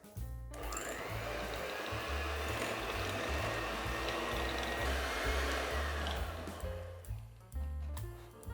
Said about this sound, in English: I'm going to mix this for 3 to 4 minutes till it gets nice and soft